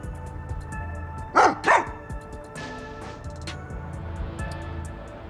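Sugar, a dog in the video game Master Detective Archives: Rain Code, gives two loud barks close together over a steady game music and ambience bed.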